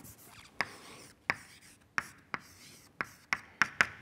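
Pen or chalk strokes of someone writing an equation by hand during a physics lecture, a series of about eight sharp, close taps and scrapes in irregular rhythm over quiet room tone, no talking.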